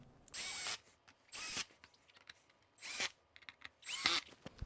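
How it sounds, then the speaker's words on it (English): A power drill whirs in four short bursts separated by pauses, close and loud, as screws are driven in while mounting saddlebags on a Harley motorcycle. "then I will use the drill"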